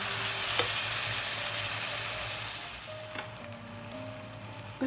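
Grilled chicken added to a pan of hot spiced vinegar mixture for chicken pickle, a loud, steady sizzle that fades slightly over several seconds, with no voices.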